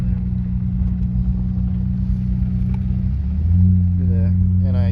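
Turbocharged Barra-engined Ford Falcon on a street, its engine idling with a deep rumble before building into a louder accelerating growl, close and with no talking.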